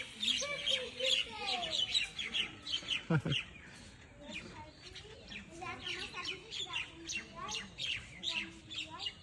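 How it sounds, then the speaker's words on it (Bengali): Many birds fly in and out of their nests in the openings of an old temple, giving a dense mix of chirps, tweets and squawks that keeps going throughout, with a brief louder flutter near the middle. "ঘুলগুলিগুলো ভিতর থেকে বেরিয়ে আসছে ঢুকছে আর বেরোচ্ছে অজস্র পাখি"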